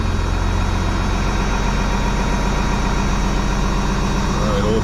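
A 12-valve Cummins diesel engine idles with a loud, steady, low rumble and even mechanical knock, close by and running alone throughout.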